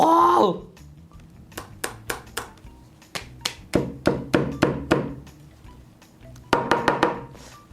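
A heavy meat cleaver chops down onto an Ablemen premium protective film, about twenty sharp, loud thwacks in quick bursts after a brief voice at the start.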